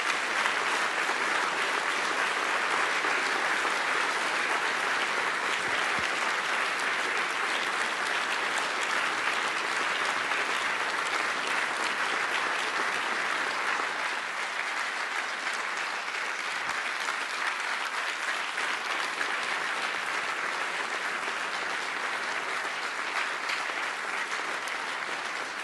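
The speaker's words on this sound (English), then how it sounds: "I hope you can hear the huge round of applause that your words have brought about, echoing through this room" Sustained, dense round of applause from a large audience filling a conference hall at a security forum in Warsaw, steady and loud throughout with no break and no speech.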